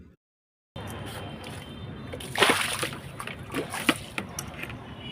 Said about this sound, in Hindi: और अब हम लग जाते हैं धुलाई में